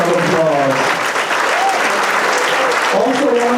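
An audience at a Night to Remember event honoring Vietnam veterans breaks into loud, sustained applause, while a voice talks over the clapping.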